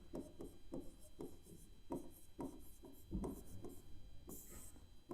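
Steady strokes of writing on a board in a class 12 maths lesson on relations and functions, soft, close scratches and taps in quick runs with brief pauses between words.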